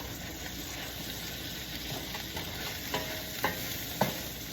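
Food for Tuscan chicken sizzles steadily in a pan, with a few scraping stirs toward the end; no voices.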